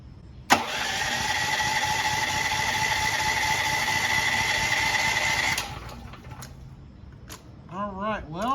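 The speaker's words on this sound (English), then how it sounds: "This is the very first time I've started it, so we're on start on the choke." A Firman T07573 tri-fuel portable generator, run on gasoline with the choke on, pulls into a loud steady engine drone for about five seconds, then cuts out, leaving quieter background noise and a voice near the end.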